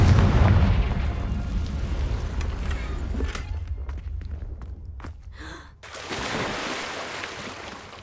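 A Confringo blasting curse goes off in the video game Hogwarts Legacy: a loud, close fiery burst at the start, then a rumbling roar that fades and surges again toward the end.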